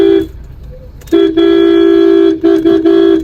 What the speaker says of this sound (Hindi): मैं यहाँ हॉर्न बजा रहा हूँ इतनी तेज तेज